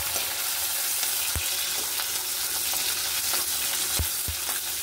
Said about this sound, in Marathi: मिरची हे सगळं आपण तेलामध्ये हे भाजून घेऊ. तेल गरम झाले, तेलामध्ये टाकून भाजून घेऊया.